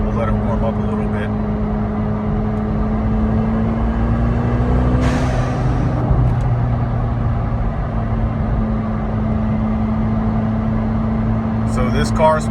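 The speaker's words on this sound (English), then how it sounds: "Right now, we'll let it warm up a little bit." A tuned McLaren 720S with downpipes, exhaust and blow-off valves idles as it warms up, giving a steady, close, low drone that holds throughout. A faint hiss rises midway.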